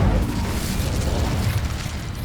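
An Incendio fire spell cast in Hogwarts Legacy erupts as a loud, sustained low boom and roaring burst of flame that rumbles for a couple of seconds.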